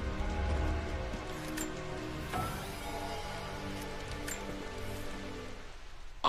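Steady rain falls in Rise of the Tomb Raider, a dense even hiss of drops on surfaces with faint rustling, continuous and fairly close, with no talk over it.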